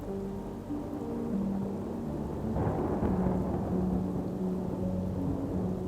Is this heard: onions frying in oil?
no